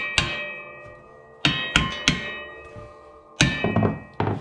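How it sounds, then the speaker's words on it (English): A hammer taps a snow plow mount into place on a front-end loader during assembly: five or six sharp metallic strikes at uneven intervals, each ringing briefly, close and loud, with no talking. "I just got to tap it in with a hammer. So let me just tap this in."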